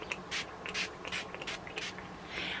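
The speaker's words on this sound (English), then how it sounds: "I'm just going to sort of refresh now I've used the powders with the Glisten Up spray from 4th Ray" Glisten Up setting spray from 4th Ray Beauty hisses out in a string of short close bursts, about six quick pumps with brief gaps, and no talking.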